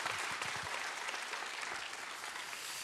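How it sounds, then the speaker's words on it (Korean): Church congregation at a Friday prayer meeting applauding, a soft, steady wash of many hands clapping, even and sustained without voices. "우리 하나님께 또 우리 여10전도회 박수로 영광을 돌리겠습니다"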